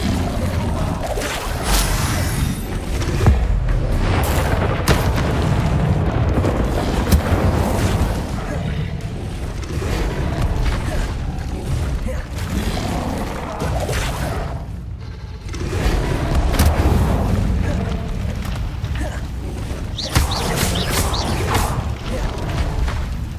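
Incendio fire spell blasts in Hogwarts Legacy erupt as repeated booming bursts and crackling whooshes over a dense layer of combat noise and mechanical clatter, loud and continuous throughout.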